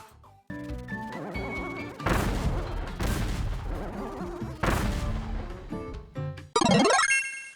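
Bomb ability explosions from Kirby and the Forgotten Land, a video game: several loud booming blasts in quick succession over busy game music, ending with a bright rising sparkle effect.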